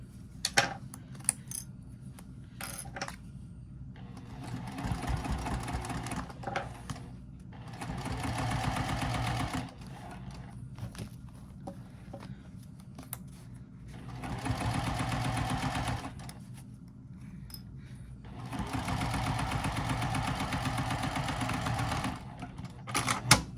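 A sewing machine stitches through the thick fabric layers of a triangle pyramid wristlet pouch. Four close, steady runs of rapid mechanical stitching are separated by pauses with scattered clicks and handling noises.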